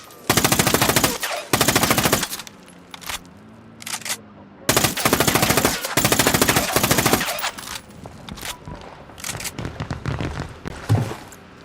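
Gun turret machine-gun fire in Ghost Recon Wildlands crashes out in loud, close, rapid bursts, two at the start and two more mid-clip, followed by scattered lighter shots and rattles.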